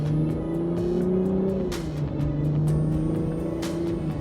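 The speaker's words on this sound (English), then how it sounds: "so just so you can at least hear a little bit of the exhaust for the 350" A 2025 Lexus IS 350 F Sport in sport mode and second gear accelerates hard, its exhaust note and engine drone rising steadily with active sound control on, loud and continuous from inside the cabin with brief clicks and shifts.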